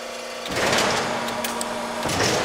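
An LVD JS25-13 hydraulic shear, unleveled and not bolted down, starts up and idles with a steady, smooth hum and a faint tonal whine, moderately loud and unbroken.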